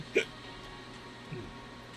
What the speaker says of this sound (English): Hiccups go away.